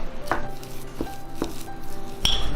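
Mashed mixture with honey is stirred in a bowl, giving a few sharp, close clinks and knocks of utensil against bowl over a low, quiet background.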